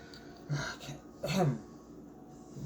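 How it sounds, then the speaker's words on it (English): Two short, rough coughs sound close by, separated by a brief pause, with quiet room tone around them. "Just because I have a cough, folks, don't panic"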